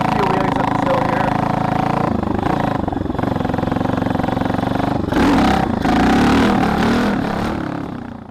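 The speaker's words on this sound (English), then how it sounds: "I like doing a few wheelies up this hill here." A Tao Tao DBX1 140cc pit bike climbs a hill with wheelies, its small engine loud and close, revving hard with throttle surges and a steady buzzing drone that rises near the end before easing off.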